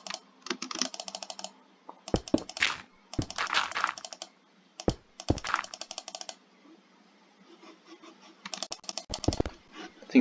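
Keys and a mouse clatter in irregular bursts of quick taps during a Minecraft session, close and crisp, separated by short quiet gaps.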